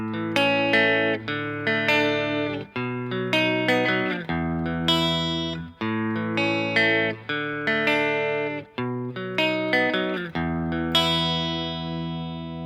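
Guitar chords, plucked string by string and ringing out in a repeating arpeggiated pattern, clear and close with no talking.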